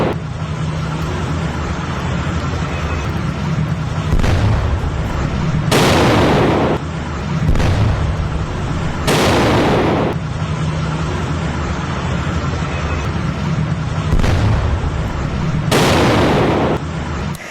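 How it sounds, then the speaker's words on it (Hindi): Missile strike explosions at the Isfahan nuclear site in Iran, several loud broadband blasts each lasting about a second, recurring roughly every few seconds over a continuous heavy background roar. "परमाणु अड्डे पर ही बड़ी मिसाइल दाग दी और उसके बाद एक ऊंचा धमाका"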